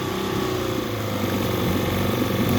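An APS 9.9 four-stroke outboard engine runs at a steady, fast idle, its even mechanical hum holding level and fairly close from start to finish with no voices.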